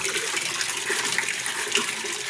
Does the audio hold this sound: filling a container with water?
yes